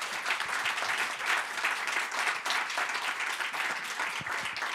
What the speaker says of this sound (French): vous avez droit à votre salve d'applaudissements parfaitement légitime